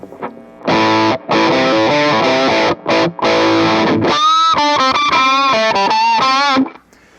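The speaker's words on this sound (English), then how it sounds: "That's all three of these overdrive pedals before and after the Danelectro Daddy-O Overdrive." Heavily overdriven electric guitar through three stacked overdrive pedals and a Danelectro Daddy-O Overdrive plays loud, saturated chords and then sustained single notes, with brief pauses between phrases.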